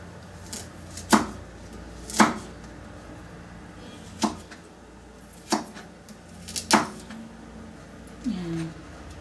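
A knife slices ginger on a cutting board in a few sharp, separate chops spaced a second or two apart, close and clear over a quiet kitchen background.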